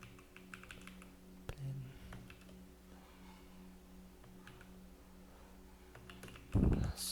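Keyboard typing at a computer while entering data into a program, soft, scattered key taps over a steady electrical hum, ending with a brief louder burst of noise.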